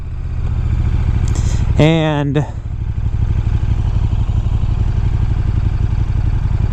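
2015 KTM 1290 Super Duke R engine droning steadily while riding, a continuous low growl heard from the rider's helmet, with a brief rising whine and a short spoken word partway through.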